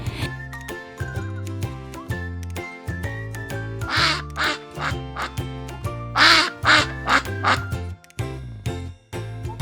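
A duck quacks in short, bright bursts, a few spaced calls rising out of a light musical backing with chimes, the quacks clustered around the middle of the stretch.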